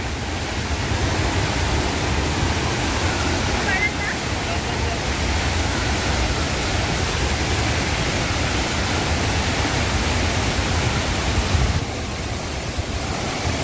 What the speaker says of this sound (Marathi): धबधब्याचा आवाज बघा काय येतोय